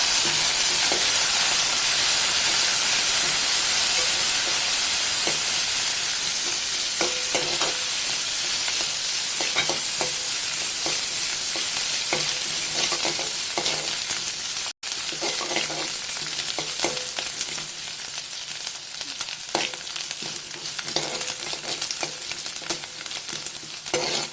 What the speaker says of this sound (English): ginger, coriander and curry leaf. Mix it well.